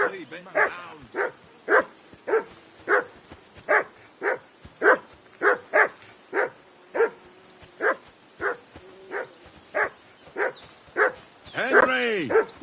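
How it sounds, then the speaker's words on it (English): A dog in the video game Kingdom Come Deliverance 2 barks repeatedly in a steady, rhythmic series of close, loud woofs, ending with a whimpering yelp. "Jesus, Henry, that barking's driving me nuts."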